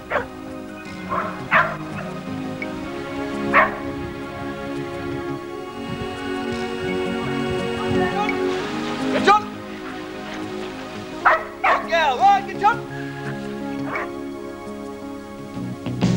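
A mountain rescue search dog barks repeatedly in short, sharp yelps and whimpers outdoors, close and loud, with excited bursts scattered through the clip and people talking intermittently in between.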